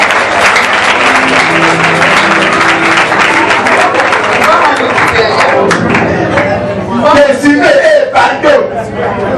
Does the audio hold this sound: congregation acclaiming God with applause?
yes